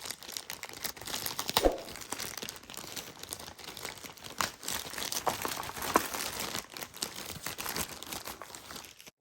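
Packaging of a red Apple Watch box being opened by hand, with close, dry crinkling and tearing of wrap and cardboard in irregular bursts across the whole stretch, loud rustles near the start and middle.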